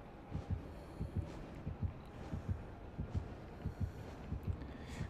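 A steady thumping heartbeat from the killer's terror radius in Dead by Daylight, paired low double thuds repeating evenly about twice a second over a faint background hum, moderately loud with no talking.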